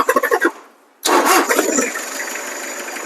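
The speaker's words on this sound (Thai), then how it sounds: "นี่คือเสียงเครื่องครับ" A Toyota Mighty pickup truck's 2.5-litre engine cranks with a few rapid pulses, goes quiet for a moment, then catches and settles into a loud, steady rumbling idle.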